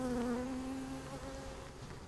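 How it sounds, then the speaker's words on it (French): Honeybees buzz close by in a steady droning hum that wavers slightly in pitch, fairly loud and alone without talk. "L'abeille, c'est un animal excessivement météosensible."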